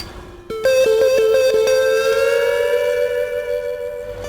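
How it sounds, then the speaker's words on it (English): A fire station siren starts with a few stuttering blasts, then holds a steady wailing tone, close and alone. "And then the siren goes off"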